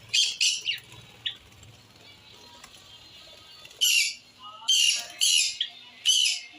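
Harsh bird squawks come in short bursts, a couple early and several louder ones later, over a faint quiet background.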